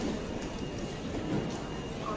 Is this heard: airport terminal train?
yes